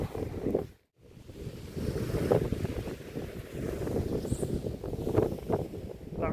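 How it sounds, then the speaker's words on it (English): A strong southwesterly wind buffets the microphone at sea cliffs during a fishing trip, with waves washing and surging below in a continuous, gusty roar that briefly drops out before resuming. "That southwesterly wind is very strong at the moment"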